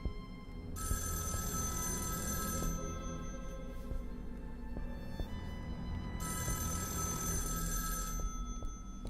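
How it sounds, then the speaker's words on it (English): Phones ringing in the horror game Erica, a steady electronic trill sounding in two long bursts, near and fairly loud over a low rumbling ambient background, no talking. "Now that the phones are ringing,"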